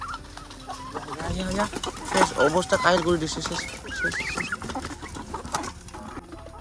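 Chickens and turkeys on a pig farm in Kokrajhar, Assam, cluck and chatter as they eat scattered grain, a busy nearby flock with rising calls, while someone talks briefly over them.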